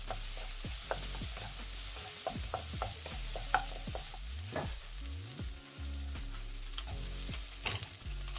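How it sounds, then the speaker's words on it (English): Garlic, chilli and onions sizzle in hot oil while a utensil stirs and scrapes the pan with repeated clinks, close and steady. "Heat up some oil and start stir frying your garlic, chilli and onions until they're nice and fragrant."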